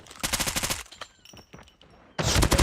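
Rapid automatic gunfire from a competitive first-person shooter match rattles out in close, loud bursts, with a pause of lighter clicks before a final heavy volley.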